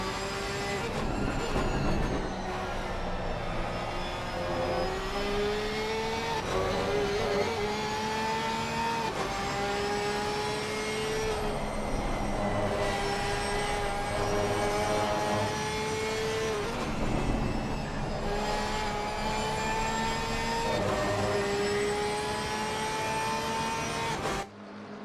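A Porsche race car in Assetto Corsa Competizione at Watkins Glen roars steadily at high revs, its engine note climbing and dropping through gear changes over a sustained, loud run with no talk.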